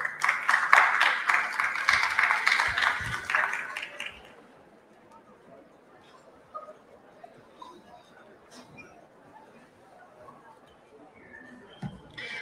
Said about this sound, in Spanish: Un aplauso al profesor, por favor.